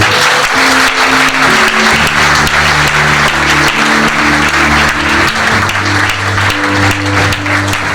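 Congregation at a French-language deliverance and healing service applauding loudly and steadily throughout, with sustained music tones underneath the crowd's clapping.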